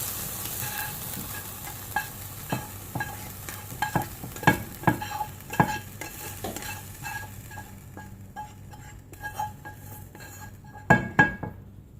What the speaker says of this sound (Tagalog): So, we have to mix it.